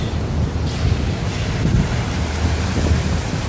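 Strong gusting wind and rain in Toronto roar steadily against the microphone, a constant heavy rush with a watery wash beneath it.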